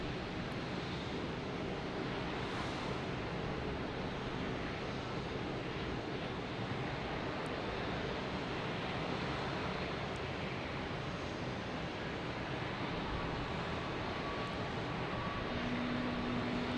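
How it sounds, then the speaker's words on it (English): A FlexJet aircraft landing at Boston Logan Airport, heard as a steady, broad jet roar that holds at an even level throughout with wind-like rushing and no talk. "Next to come in is a flex jet coming in from Augusta."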